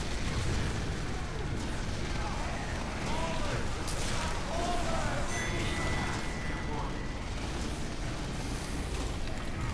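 Rocket explosions in Team Fortress 2 during a payload match, a continuous loud din of booms and bursts layered with game combat noise and voices.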